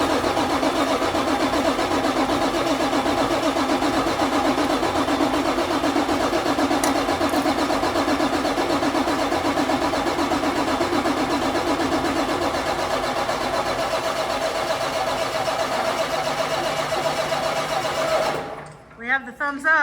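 A truck's diesel engine cranks steadily and continuously, a loud, rhythmic mechanical churn lasting many seconds before cutting off abruptly near the end.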